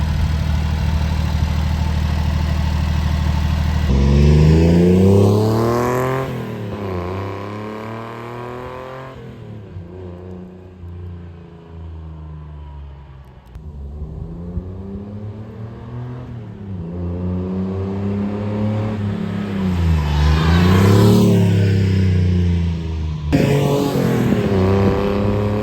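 A Honda Acty mini truck with a homemade exhaust revs and accelerates, loud and raspy, rising and falling in pitch as it drives past and away, then returns.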